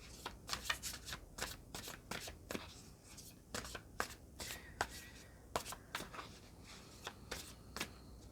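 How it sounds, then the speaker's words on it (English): Tarot cards shuffled by hand close up, a quick run of crisp riffling flicks and soft slaps in uneven bursts, fairly quiet with no talk over it. "Let's just get another card out to clarify."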